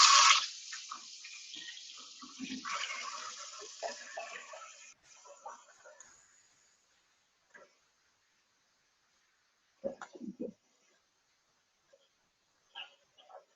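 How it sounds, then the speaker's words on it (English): Hands are washed under a running tap, starting with a loud gush of water that thins to soft trickles and splashes, then a few faint drips and rinses in a quiet room. "I'm gonna wash my hands again because it's really gross"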